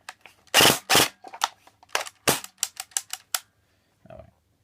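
An airsoft AK74 rifle fed from a flash magazine fires pellets in a string of sharp, irregularly spaced cracks, some doubled, loud and close, then stops abruptly with a faint click after a short silence.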